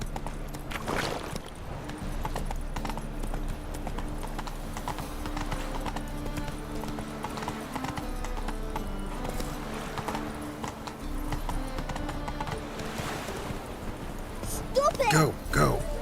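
A horse's hooves clip-clop at a steady gallop in The Witcher 3, a rhythmic drumming that continues throughout under in-game voices, with a short whinny near the end.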